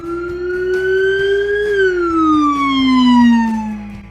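A loud police siren from a Police Interceptor Utility wails steadily, its pitch rising then slowly falling, heard alone and close.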